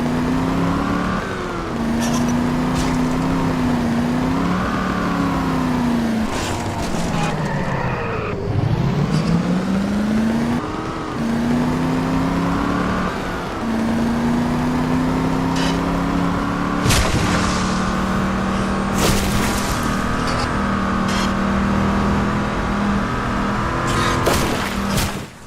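A badly damaged car driven in the video game Just Cause 2, its engine droning loudly and steadily with repeated rising and falling revs as it shifts, plus occasional knocks and bangs.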